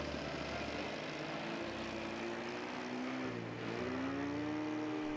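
Propeller engine of a de Havilland Beaver floatplane at a model float-flying event, droning steadily with a rising, shifting pitch partway through, continuous and fairly close.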